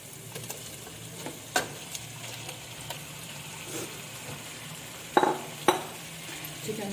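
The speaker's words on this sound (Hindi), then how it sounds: "अब इसमें मैं चिकन डाल दूंगी।" Chicken stirred and frying with onions in a pan for a creamy handi, a soft sizzle under light scraping, with a few sharp clinks of a utensil against the pan.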